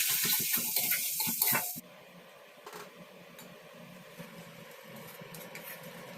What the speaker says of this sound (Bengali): বাটিটা ধুয়ে একটু জল দেব।